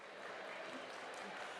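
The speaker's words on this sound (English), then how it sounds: "Hands together. Round of applause." An audience at a business conference claps in steady, moderate applause for a brief moment, heard from a distance.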